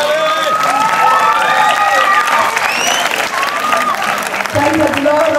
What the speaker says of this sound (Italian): ancora un applauso, dai